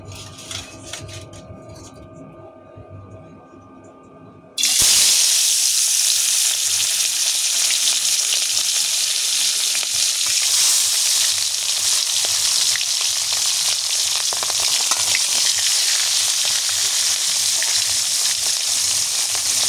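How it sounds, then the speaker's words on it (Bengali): Hilsa fish frying in hot oil: after a few quiet seconds, a loud, steady sizzle bursts in and crackles on continuously, close up and unbroken. "তেল গরম হয়ে গেছে, মাছগুলো এবার দিয়ে দেবো।"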